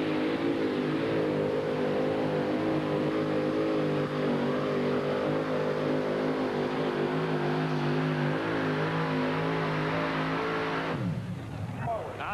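A two-wheel-drive spike truck strains under load at a 1991 truck pull in Chapel Hill, Tennessee, its engine roaring steadily and loud for about eleven seconds before cutting off, with crowd noise underneath.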